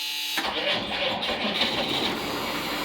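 A Chevrolet school bus's large Detroit Diesel engine cranks and catches after glow plug warm-up, then settles into a loud, rumbling idle close by.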